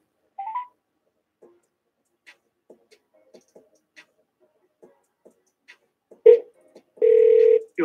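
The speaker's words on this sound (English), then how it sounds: "I'm about to call him." A phone call is placed: a short tone, then faint scattered clicks and taps, and finally a steady ring tone, close and otherwise quiet.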